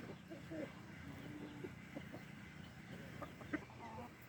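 A hen that was recently brooding roams and clucks in scattered short calls, fairly faint, among other distant barnyard sounds.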